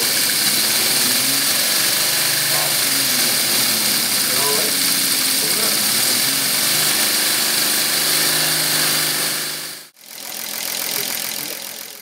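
A larger prototype air motor runs on a test bench, its air flow controlled by an Arduino. It gives a steady, loud mechanical running noise that cuts out abruptly for a moment near the end and then resumes.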